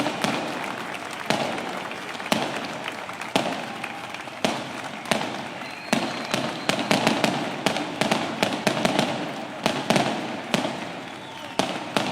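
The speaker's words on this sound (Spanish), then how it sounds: "pedimos, por favor, cuidado con los fuegos artificiales y las bombas" Fireworks and firecrackers go off repeatedly at an outdoor May Day rally in Montevideo, Uruguay. Sharp bangs and crackling bursts come in an irregular series over a continuous noisy background.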